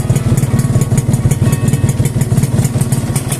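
A factory-original Yamaha TZR150 motorcycle with a freshly rebuilt engine idles close by, a steady, loud, rapid pulsing putter that holds an even rhythm throughout with no talking.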